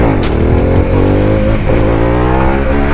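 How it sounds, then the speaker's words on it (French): Harley-Davidson Pan America 1250 adventure motorcycle engine revving up through the rev range, a loud, close, steady growl whose pitch climbs and dips across the whole stretch. "quand tu montes dans les tours il grogne"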